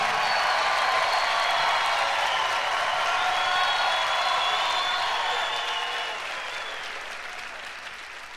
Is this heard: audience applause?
yes